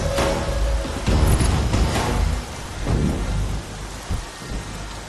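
Heavy rain roars steadily through a thunderstorm in a comedy film scene, with deep rumbling thunder and a sharp crack near the start, loud and close, no voices.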